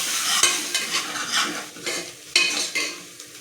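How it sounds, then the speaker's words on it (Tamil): Onions sautéing in oil with mustard seeds and curry leaves in a pan for a black chana kurma, sizzling steadily while a utensil scrapes and stirs with several distinct clinks. "இப்போ இதை நல்லா வதக்கலாம்."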